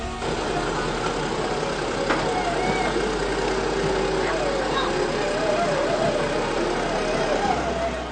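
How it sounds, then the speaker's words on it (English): Heavy bulldozer engines rumble and idle continuously, loud and steady, with faint mechanical whines drifting over the low drone, at a road-grading site. "On November 10th, 2017, the bulldozers rolled in."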